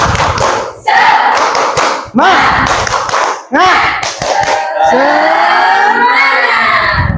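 A seminary audience claps the rhythmic 'tepuk semangat' cheer before a lesson on riba, with loud bursts of rhythmic clapping and shouted chanting over a voice, followed by sustained cheering and voices.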